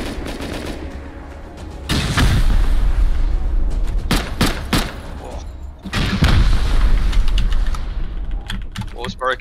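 Two big rocket blasts hit a wall in Rust, each a loud boom followed by crumbling debris and scattered sharp shots, with quieter clicking between them and a voice speaking.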